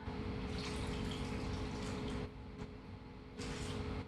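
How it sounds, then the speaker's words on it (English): Water pours over chicken bones and vegetables in a pot for gelatinous bone broth, a close, steady rushing stream with a couple of brief dips in flow. "And I'm working with 8 cups of water today."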